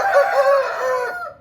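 A Shamo-mix Aseel rooster crows once, a close, loud, ringing call lasting just over a second that fades at the end, alone without talk.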